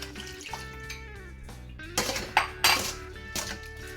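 A beef adobo marinade with bay leaf and lemon juice is mixed in a bowl, with soft clinks and knocks of utensil on dish plus wet sloshing, louder in the second half.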